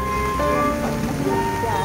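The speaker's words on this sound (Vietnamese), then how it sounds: "Mưa bão quá chừng luôn." Heavy storm rain from Typhoon Yagi near a flooded stream in Lao Cai, Vietnam, pouring steadily in a dense wash with some background tones throughout.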